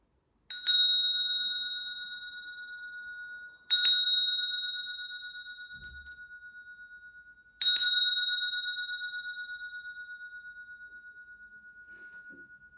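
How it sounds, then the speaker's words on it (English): A bright metal bell is struck three times at spaced intervals, and each clear ding rings out and slowly decays in near silence. "I want to leave you with this last sounding effect of this bell."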